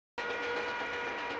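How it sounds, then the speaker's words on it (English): A train in the John Ford western The Man Who Shot Liberty Valance cuts in suddenly as a steady, loud rushing roar, a brief continuous passage with no voices. "It's a short train"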